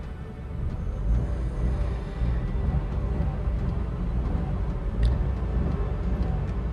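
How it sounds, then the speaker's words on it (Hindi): Inside a Renault Triber, the engine idles as a low, steady rumble with a faint, even hum and no talk over it. "ये देखिए अभी गाड़ी स्टार्ट है मेरी।"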